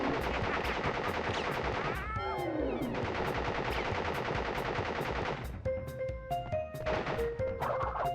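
Rapid gunfire from a boss fight in the 1996 PlayStation game Crash Bandicoot, a dense loud burst that stutters and breaks off, followed by electronic beeps and tones from the game.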